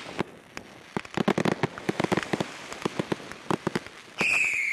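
Fireworks burst outdoors at a wedding celebration outside a banquet hall, a rapid, irregular string of sharp cracks and pops, followed at the end by a rising whistle.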